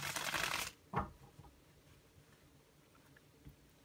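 A short burst of tarot card shuffling rattles at the start, followed by a single soft tap and near silence.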